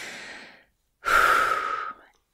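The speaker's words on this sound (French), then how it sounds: "Prends une grande respiration." A single slow deep breath: an airy drawn-out inhale, a brief pause, then a louder, fuller breathy exhale lasting almost a second, with no talking.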